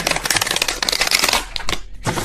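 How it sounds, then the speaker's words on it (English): Cards being shuffled by hand as a deck is split into portions, a dense run of crisp riffling flutters that stays close and steady, with a brief pause near the end. "I find it really hard to shuffle this deck completely, so I have to like split it up."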